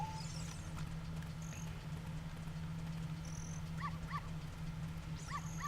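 Dogs barking and whimpering in the Ocarina of Time video game, near the Temple of Time. Short yelps come in two small bursts over a steady low game hum, with brief chimes in between.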